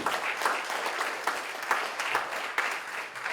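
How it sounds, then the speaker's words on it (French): A crowd applauds steadily throughout, dense clapping at a fairly loud, even level with no voices on top, at a firefighters' recognition evening. "Bonne main d'applaudissement."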